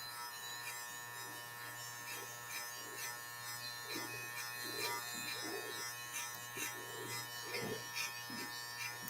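Electric hair clippers buzz steadily and close while cutting a men's tapered haircut, the motor tone holding with small changes as the blades pass through hair, alone with no talk.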